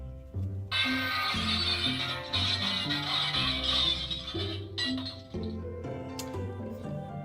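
A handheld noisemaker gives a glass-clinking effect: a run of bright, repeated clinks and tinkles, loud and close, over a steady rhythmic background pulse.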